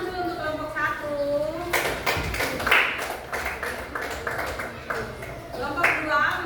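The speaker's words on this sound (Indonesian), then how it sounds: "Tepuk tangan dulu untuk kelompok 1" A classroom group applauds the first group of students, with a burst of scattered handclaps that follows a speaking voice and continues under light chatter.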